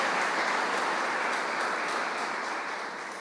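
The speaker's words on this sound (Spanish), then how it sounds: "Vamos a aplaudir al Señor." Sustained applause from a church congregation, a dense, steady wash of many hands clapping together, loud and close, fading slightly at the end with no voices over it.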